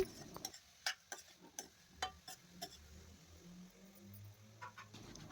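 Spoon stirring ivy gourd pieces frying with tempering in a pan, faint sharp scrapes and taps in an irregular rhythm over a low sizzle, quiet and close.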